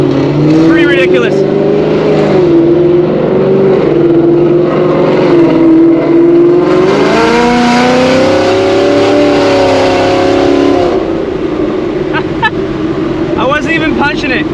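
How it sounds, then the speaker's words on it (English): A loud catless E85 Gen 3 Mustang GT exhaust rumbles and surges up and down in pitch at night, with a reverberant, boomy echo bouncing off a nearby wall; a voice talks over it. "So the echo of my exhaust really bounces off this wall right here."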